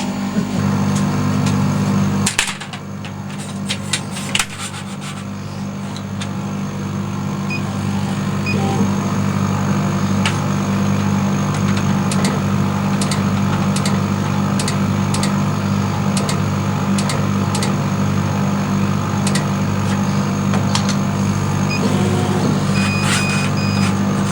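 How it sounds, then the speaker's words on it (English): Laser cutter slicing 1mm MDF board, starting with an engraved layer: a steady mechanical hum and whir with faint high beeps, continuous and fairly loud throughout, with a brief clatter near the start. "So this is now cutting the 1mm MDF"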